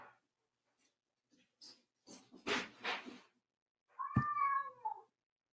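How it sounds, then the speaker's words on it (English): Cats fighting indoors, with scattered soft scuffles and short squeaky calls building to a sharp, loud meow or yowl near the end, heard close by without talk. "My cats are totally fighting."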